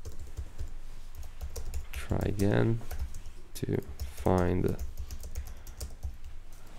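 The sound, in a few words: typing on a computer keyboard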